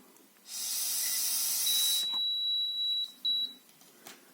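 Weak, unsteady breath blown into an AL-5500 digital semiconductor breathalyzer, a broad hiss lasting about a second and a half, then a steady electronic beep and a few short bleeps, close and alone.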